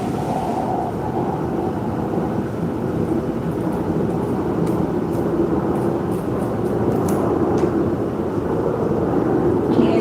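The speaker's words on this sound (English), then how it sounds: "Can you guys hear that plane going over? It's really close." A low-flying airplane passes close overhead, a loud, steady low roar that fills the whole stretch without letting up.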